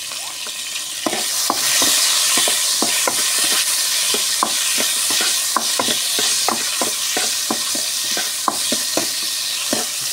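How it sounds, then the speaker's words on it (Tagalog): Garlic sizzles steadily in a hot pan while a spatula scrapes and stirs it in regular, sharp strokes, close and loud with no talking. "Brown lang po natin yung ating bawang."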